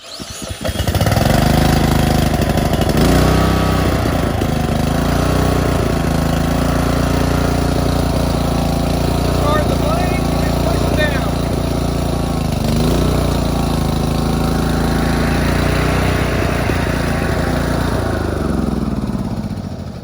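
The engine on a Swisher Rough Cut 44-inch mower is cranked with a drill, catches, and then runs loud and steady close by, its pitch rising and falling as the revs shift.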